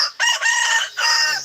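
Close, loud poultry calls: a rooster's drawn-out crow with harsh, ragged cackling, repeated twice in quick succession.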